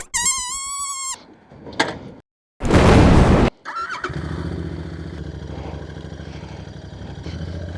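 A Royal Enfield Continental GT cafe racer motorcycle starts up: a whining starter and a brief mechanical clatter, then a loud burst before the single-cylinder engine settles into a steady, close-up idle.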